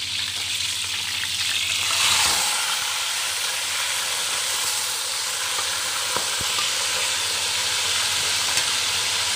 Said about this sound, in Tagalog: Kapag bangus po talaga yung piniprito, matilansik masyado.